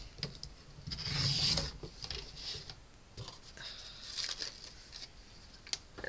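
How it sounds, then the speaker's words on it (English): Cardstock being cut by hand for a Stampin' Up floral card, with soft close rubbing and rasping strokes, one louder swell early on and then quieter intermittent scraping. "Gotta cut some cardstock."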